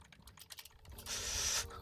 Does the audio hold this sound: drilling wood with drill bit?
no